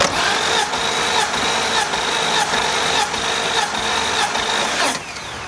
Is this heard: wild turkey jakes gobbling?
no